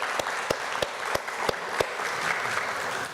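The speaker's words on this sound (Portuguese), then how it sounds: "Por favor, uma salva de palmas para essas empresas." An audience applauds companies at a journalism awards event at Faculdade Cásper Líbero. The clapping is steady and moderately distant, with a few sharp, louder claps standing out at regular intervals. No one speaks.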